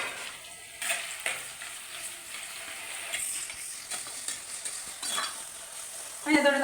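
Tomato frying in a pan as the base for a Kerala fish curry, a steady sizzle with intermittent stirring scrapes and utensil clatter, fairly close and moderate in level.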